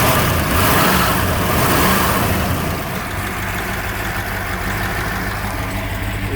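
Original engine of a 1968 Dodge Hemi Charger R/T, heard from under the open hood, revs loudly at first, then settles into a steady, deep, lumpy idle, close and continuous with no talking.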